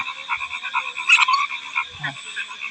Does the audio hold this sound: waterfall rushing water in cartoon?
no